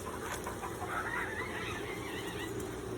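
Backyard chickens cluck in a steady, low-level stream at a moderate distance, with no voices over them.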